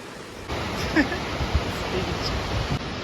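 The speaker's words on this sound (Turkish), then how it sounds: "Şöyle şelale." Rushing water at Kapuzbaşı waterfall in Kayseri, a loud, continuous broadband roar that starts abruptly and holds steady throughout.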